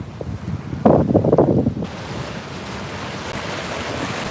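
Waves wash onto a chilly beach under steady gusts of wind buffeting the microphone, with a louder surge of surf partway through before settling into continuous rushing noise.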